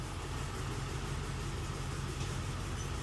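A low, steady rumble of a heavy train engine leaving Hua Lamphong station in Bangkok, continuous and fairly loud, with no voices.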